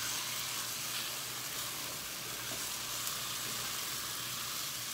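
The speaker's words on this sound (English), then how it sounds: "So we'll get a little bit in, stir it up." Corn and crab soup being stirred in a pot, a steady bubbling sizzle and hiss that runs unbroken with no talking over it.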